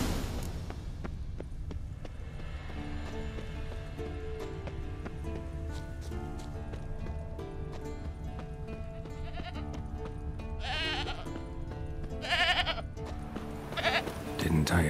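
A goat in The Witcher 3 gives a few wavering bleats toward the end, over a quiet bed of game ambience and music, with someone talking at points.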